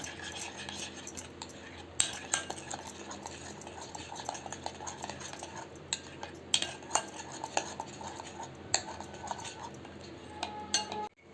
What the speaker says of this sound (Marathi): लाल तिखट मसाला धणे पावडर गरम मसाला हे मिश्रण मिक्स करून घेऊया